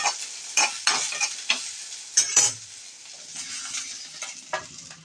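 Onions sauté in a pan for a wedding-style Tamil buttermilk kuzhambu, with a steady close sizzle and a few sharp scraping stirs near the start, no talk.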